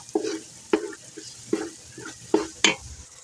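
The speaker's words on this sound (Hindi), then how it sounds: "अब हम इसमें चावल डालकर भून लेंगे, ताकि सारे चावलों में मसाला मिक्स हो जाए।" Rice is stirred and fried in a pot of cooked masala for mutton biryani. Five distinct scraping strokes come at a regular, unhurried rhythm, close and fairly loud, over a soft background sizzle with no talking.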